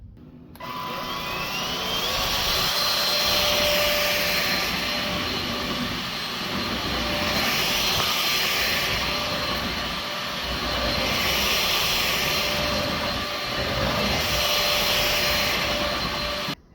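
A Trucozie T350 cordless vacuum cleaner runs with a loud, steady motor whine and airy rush that swells and eases slowly in pitch, with no talking.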